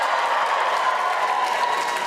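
A live comedy crowd at the Apollo theatre roars with a dense, even wash of cheering and clapping that fills the whole moment at steady volume.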